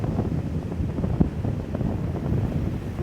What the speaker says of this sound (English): We're out at the windy beach, so the picture may be a little shaky.